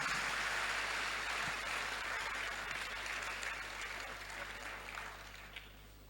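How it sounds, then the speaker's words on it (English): Applause from the audience at a youth summit, a broad wash of clapping over a low electrical hum, gradually fading toward the end. "So let's give all of them a very big applause."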